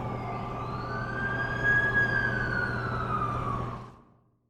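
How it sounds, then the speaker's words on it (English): An ambulance siren from The Amazing Spider-Man 2 wails steadily over a low engine rumble. It rises slightly as the vehicle draws near, then cuts off abruptly near the end. "That's the ambulance I called."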